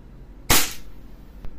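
A WE M92 Beretta SV airsoft pistol fires a single action shot with one sharp, loud, close crack, followed a moment later by a faint click, with no voices.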